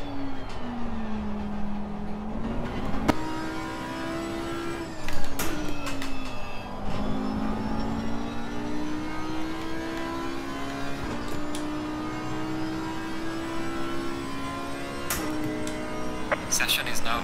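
A race car engine in Assetto Corsa Competizione on a single flying lap on cold tyres, its whining pitch repeatedly climbing and dropping through gear shifts while someone talks throughout.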